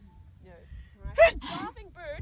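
A person sneezes once, loud and close, with a sharp inhale before it, amid an outdoor crowd while someone talks.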